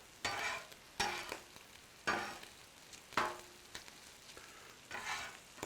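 Mushrooms and other omelette ingredients fry in clarified butter on a Blackstone griddle, a soft sizzle broken by five or six sharp scraping stirs of a spatula at roughly one-second intervals, close up with no talking.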